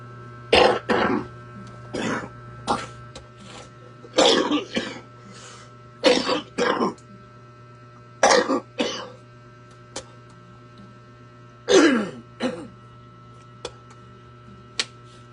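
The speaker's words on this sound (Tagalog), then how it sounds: "Grabe, ubo ko din na mawala-wala." Repeated coughs and throat clearing, about nine short bursts spaced unevenly over fifteen seconds, close and fairly loud against a steady low hum, with no talking.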